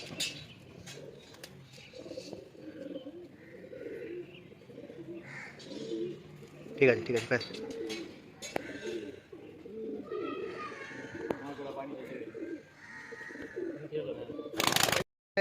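Pigeons coo in a loft during a bird sale near Sankrail, Howrah, with soft repeated calls close by, mixed with people talking and a few sharp bumps and a loud burst near the end.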